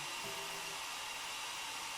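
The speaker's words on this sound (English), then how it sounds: "He's helping me blow dry my hair." A hair dryer blows steadily on someone's hair, a constant airy whoosh with a faint motor whine, close and even, with a brief low hum near the start.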